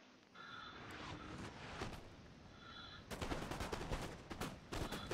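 Musket volleys crackle in the Empire: Total War video game, with bursts of massed gunfire rolling through a noisy battle ambience and a sharper, louder volley about midway through.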